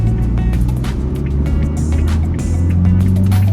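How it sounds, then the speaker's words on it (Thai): Isuzu MU-X 1.9 diesel SUV pulling away uphill in first gear, a steady low engine drone with strong low rumble and a loud, continuous hum throughout, plus faint intermittent clicks and rattles. "เราก็สามารถออกตัวที่เกียร์หนึ่งครับ ในความชันขึ้นเขาเหมือนเดิมครับ"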